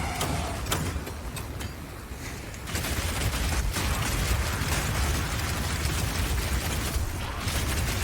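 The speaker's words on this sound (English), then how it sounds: "Now I've been using explosive grenades here" Explosive grenades bursting in Path of Exile 2, a dense run of booming blasts and crackling debris that rumbles continuously at close range, with a brief lull before the explosions surge again.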